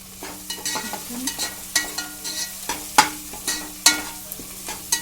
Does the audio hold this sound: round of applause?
no